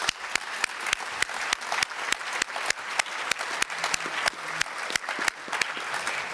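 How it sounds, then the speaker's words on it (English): Audience applause for a panel of speakers at a transport decarbonisation event, a steady wash of many hands clapping with sharp individual claps standing out at a regular beat, moderately loud and sustained with no talk over it. "can we give them a round of applause"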